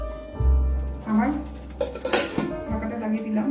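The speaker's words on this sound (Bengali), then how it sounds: "কড়াইয়ের ঢাকাটা দিয়ে দিলাম" A lid set onto a kadai of steaming mourola fish lands with a clattering metallic clank and a brief rattle as it settles, loud and close, followed by quieter handling noises.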